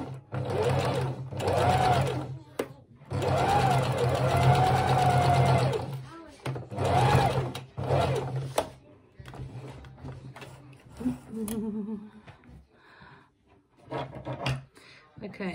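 A sewing machine stitches a thin seam on a handmade toy bunny, running in several long bursts with short pauses between them. Later the whirring breaks into shorter, choppier runs, and a voice talks over parts of it.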